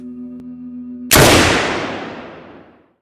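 A single loud M9 pistol shot bursts out after a quiet low hum, its sharp crack trailing into a long, fading reverberant tail that dies away over about two seconds.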